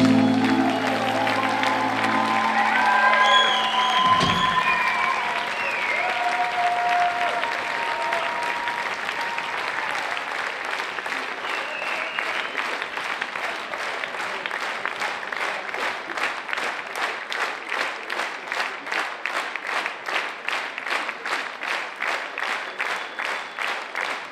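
Recorded applause from a concert audience, starting with music fading out and growing into long sustained clapping that settles into a rhythmic, synchronized pulse, loud and continuous.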